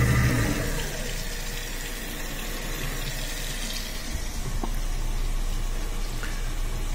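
Water runs steadily from a faucet into a sink with a newly installed garbage disposal, a constant splashing rush with a faint mechanical hum underneath; no voices.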